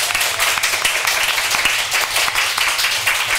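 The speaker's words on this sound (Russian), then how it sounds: "Аплодисменты, друзья мои, номер третий." A studio audience on a Russian TV cooking show claps for a few seconds, a fairly loud and even patter of many hands with no talking over it.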